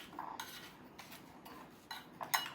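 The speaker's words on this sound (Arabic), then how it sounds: "واقلب بقى المزيج ده مع بعضه" A spoon scrapes and clinks against a bowl while salt and turmeric are stirred together, quiet and close, with a few sharper metallic taps near the end.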